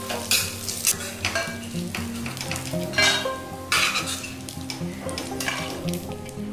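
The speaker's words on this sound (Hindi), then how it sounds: "मैं थोड़ा सा घी डालूंगी, करीब एक चम्मच काजू और बादाम को।" Cashews and almonds frying in about a spoonful of ghee in a kadhai, a steady close sizzle broken by repeated scraping and clinking of a spoon against the metal pan while stirring.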